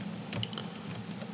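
Close, quiet computer keyboard typing, a steady patter of light key clicks entering bullet-point text in a PowerPoint slide, with a louder keystroke at the very end and no voices.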